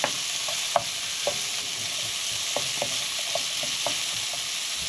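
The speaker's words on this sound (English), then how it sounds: "Now into this oil, I'm going to add my onions and peppers. I'll just give those a quick saute off." Onions and peppers saute in hot oil in a pan, a steady bright sizzle throughout with a few light clicks of a stirring utensil scattered over it.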